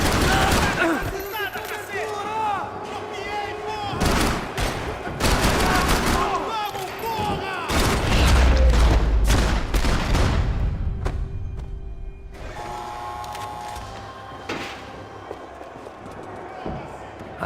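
Heavy gunfire from Max Payne 3 gameplay comes in close, loud bursts of rapid shots, volleys repeating over several seconds before easing into quieter action, with people talking through it.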